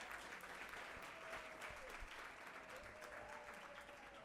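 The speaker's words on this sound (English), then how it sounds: "Let's give them a huge round of applause." Dense, steady applause fills a large awards-ceremony hall at a university innovation festival, a continuous wash of many hands clapping at moderate level with no pauses and no talk.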